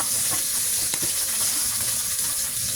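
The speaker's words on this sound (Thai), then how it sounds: "ตั้งกระทะใส่น้ำมันแล้วก็ ใส่กระเทียมลงไป ผัดหน่อย" Steady sizzling of garlic stir-frying in oil in a hot wok, with a few scraping stir strokes near the start, continuous and fairly loud with no talking.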